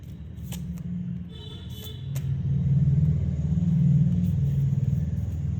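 Tarot cards being shuffled by hand, with a few quick riffling flutters and soft snaps over a steady low rumble, close and fairly quiet.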